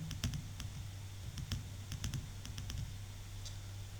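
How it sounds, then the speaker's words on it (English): Typing on a computer keyboard while entering text in an Excel spreadsheet: a series of light, irregular key clicks in small bursts over a low steady hum, fairly quiet and close. "We will type here discontinue."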